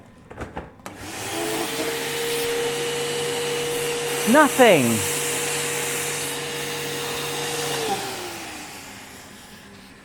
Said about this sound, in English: I've put it on the blower function, look.